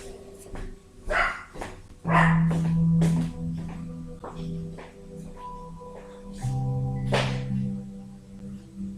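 A dog barks several times in short sharp yips and woofs spread across the stretch, close by, with some quieter gaps between.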